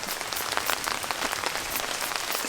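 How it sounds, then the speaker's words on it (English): Rain patters steadily on a canopy over a campsite in a Florida national forest, a dense, even drumming of drops with no voices. "So it's gonna rain for the next couple hours."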